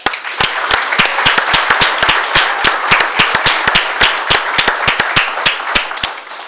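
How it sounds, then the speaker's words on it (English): Audience applause at a police swearing-in ceremony: a round of crisp, loud clapping with distinct individual claps in an irregular rhythm, continuous throughout with no talk. "And let's give them one more round of applause."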